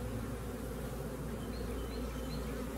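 A honeybee swarm gives off a dense, continuous hum as frames are set into a hive, steady and close, with no voices.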